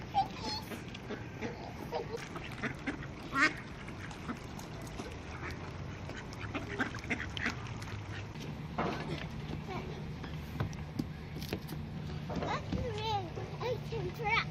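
Ducks quacking outdoors, scattered faint calls over a steady background, mostly under the voices of an adult and young children talking nearby.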